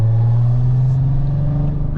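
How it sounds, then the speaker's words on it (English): Straight-piped VW Golf R32 exhaust holding a loud, steady deep drone close by, with a constant low rumble and no change in pitch. "because we've got the car and it's straight piped or whatever you want to call it"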